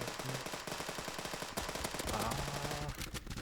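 Rapid automatic gunfire in the online first-person shooter Fire Strike Online, a loud continuous rattle of shots lasting a few seconds in close game audio.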